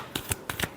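Tarot cards being shuffled give a few quick, soft riffling bursts in close succession, faint and close up with no voices.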